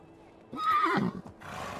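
A horse in the medieval life-sim game Medieval Dynasty gives a single loud, close whinny lasting about half a second, followed by softer snorting and faint background noise.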